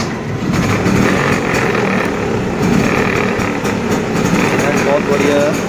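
A Bajaj Chetak scooter with a faulty voltage regulator runs on choke, its small engine idling in a steady, buzzing putter held up close under intermittent talk.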